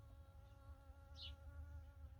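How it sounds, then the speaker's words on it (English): A faint, steady insect buzz hums quietly, like bees flying nearby in a garden in August, with one brief closer whine as an insect passes. "Now I'm standing in a bunch of bees."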